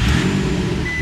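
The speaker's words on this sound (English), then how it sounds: "the car will start up." Car engine starting via a keyless RFID push-button start system: a steady, loud low engine rumble close by, settling into a smooth idle with no voices.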